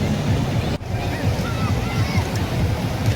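Sea wind and surf at a beach, with waves washing continuously and wind buffeting the microphone, and a brief sharp knock partway through; no clear talk.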